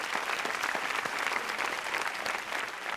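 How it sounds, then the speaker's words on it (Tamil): A studio audience gives a nadaswaram troupe a dense, steady round of applause for its opening performance on a Tamil Pongal special TV show, loud and continuous throughout with no talk over it. "இவ்வளவு அழகான ஓப்பனிங்கை நமக்காக கொடுத்த இந்த அற்புதமான நாதஸ்வர குழுக்கு ஒரு நல்ல கரகோஷத்தை"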